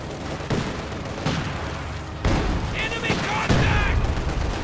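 Gunfire and anti-tank rifle shots from the Company of Heroes 2 strategy game crackle in a busy battle mix, sharp reports and bursts stacking over a constant rumbling backdrop.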